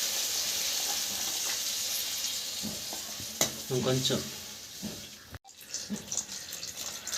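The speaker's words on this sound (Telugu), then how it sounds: "ఇంకైతే నేను ఇందులో కొంచెం నీళ్ళు పోసుకుంటున్నానండి." Water poured into a pan of frying pasta masala hisses and sizzles strongly, then stirring scrapes and bubbling follow, with a brief spoken word partway through.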